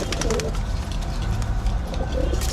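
Pet pigeons cooing steadily and close by, soft repeated throaty coos over a constant background hum, with no talking.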